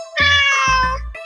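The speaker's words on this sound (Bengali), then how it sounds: "উস্তাদ ম্যাও ম্যাও করছে যে।" A cat gives two close, clear meows in quick succession, the first longer and drawn out, the second shorter.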